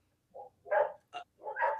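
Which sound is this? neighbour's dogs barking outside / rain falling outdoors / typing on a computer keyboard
neighbour's dogs barking outside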